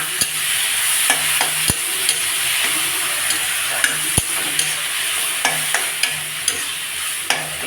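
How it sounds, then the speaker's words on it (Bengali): Ginger and green chili paste, fried onion and tomato paste sizzle in butter in a pan for homemade butter chicken, a steady close hiss punctuated by sharp spoon taps and scrapes against the pan, with no talking. "দিয়ে মশলাটা কষুক"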